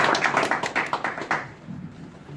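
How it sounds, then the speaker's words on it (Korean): Attendees at a national policy meeting break into short applause, a quick run of sharp claps for about a second and a half that fades into room quiet. "걸로 하고 박수로 받겠습니다."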